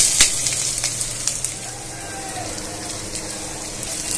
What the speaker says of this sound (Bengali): আমি কড়াইয়ে দিয়ে দেবো কাঁচামরিচ পেঁয়াজ কুচি আর রসুন কুচি